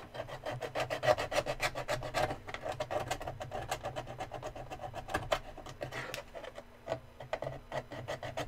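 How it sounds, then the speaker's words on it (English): A tool scraping away deep texture on a build surface, giving a steady run of rasping, rubbing strokes at close range, with a quick repeated rhythm and no voices. "It's just way easier to scrape away some of this texture because it's so deep."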